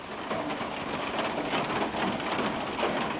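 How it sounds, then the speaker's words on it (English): Steady light rain patters on a tin roof, a dense even hiss of drops throughout with no talking. "listen to the sound of the blessed rain that I manifested"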